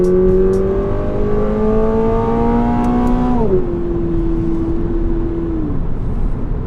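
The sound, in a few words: 2022 Toyota GR86 engine revving in manual mode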